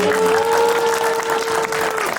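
A crowd claps steadily throughout, with a sustained tone held over the applause.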